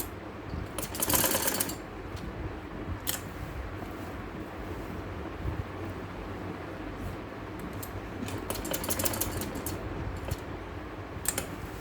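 A sewing machine double-stitches lace ribbon onto a kameez suit in short separate bursts of fast mechanical clatter, with quieter handling and rustling between runs.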